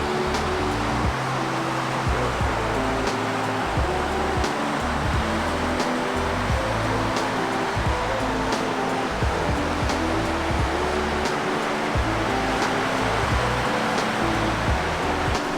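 A river rushes beside a riverside camp spot, a loud continuous broadband wash of flowing water with no pauses, steady from start to finish.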